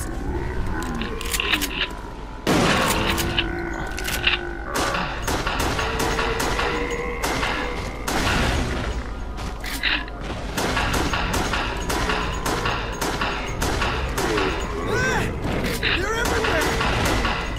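Gunfire in the video game Resident Evil: The Darkside Chronicles: repeated sharp shots and thuds scattered through the stretch, mixed with game effects and a steady low background, while a player talks over much of it.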